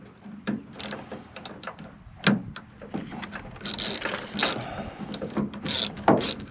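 Ratchet wrench tightening a bolt on a 1998–2016 Ford F-series truck tailgate, a run of quick ratcheting clicks and short mechanical bursts, close and fairly loud, with no talk.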